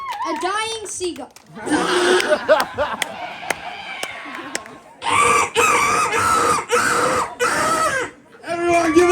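A contestant at a seagull screeching contest on Ocracoke Island, North Carolina, imitates a dying seagull with a voice, giving loud, wavering squawks and cries in bursts that trail off, heard close with crowd noise around them.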